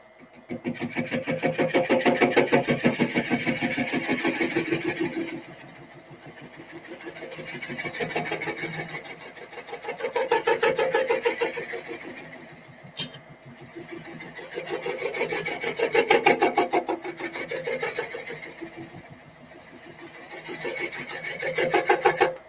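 Wood spinning on a lathe as a tool rounds off the bottom of the piece, a steady rasping scrape that swells and eases in long repeated passes with a brief sharp click midway.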